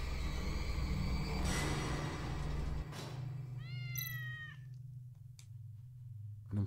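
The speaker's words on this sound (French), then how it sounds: "Donc c'est William le chat" A cat in a video game lets out a single clear, drawn-out meow over a steady low rumble of game ambience, followed by quieter background noise.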